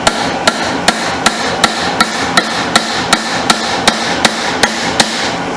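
A hammer strikes metal on a 1989 Suzuki RMX 250 vintage dirt bike during ignition stator replacement, with about fifteen sharp, evenly spaced blows close by at a steady, brisk rhythm.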